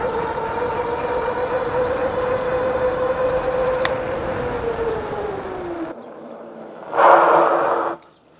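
A 3000-watt dual-motor all-wheel-drive e-bike gives off a steady, fairly loud electric motor whine that holds its pitch and then sags away, followed by a short rush of wind noise near the end.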